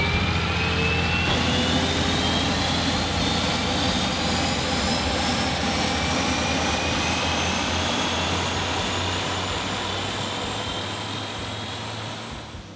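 Propeller aircraft engine running steadily at high power during a prop balancing run-up, a loud continuous drone with a low throbbing hum and a slowly rising whine, easing slightly near the end.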